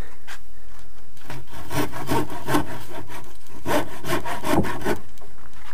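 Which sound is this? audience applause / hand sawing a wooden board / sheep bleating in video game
hand sawing a wooden board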